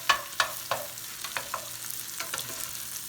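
Cheesesteak meat and melting cheese sizzle on a griddle while a spatula scrapes and stirs in short repeated strokes, sharp at first and then softer, over a low steady sizzle.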